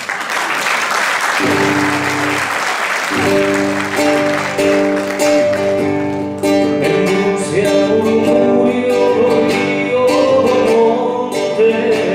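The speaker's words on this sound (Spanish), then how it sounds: "quiero pedir un fuerte aplauso al alcalde de Sanxenxo" Loud, sustained audience applause for the mayor of Sanxenxo at a performance, continuing steadily as sustained musical tones from instruments swell in underneath and carry on with it.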